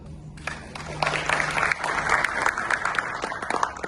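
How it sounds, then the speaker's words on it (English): Audience applause at an Adistec F1 2026 Veeam event, a dense patter of many hands building after a brief quieter start and holding steady, fairly close and full, with a low hum underneath. "big round of applause to Adistec and the rest of the team that helped us do that"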